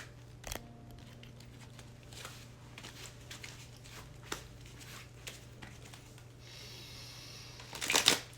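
Soft riffling and shuffling of playing cards, a few quiet flicks spread over the clip, ending in a louder burst of card noise near the end.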